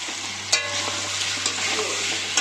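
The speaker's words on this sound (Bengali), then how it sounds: "এদিকে মটন কষানো হচ্ছে আর দিয়েছি দেখো ধামসা আলু" Mutton stir-frying with potatoes in a pan, a continuous loud sizzle with the scrape and clack of a spatula stirring at intervals, close and with no talk.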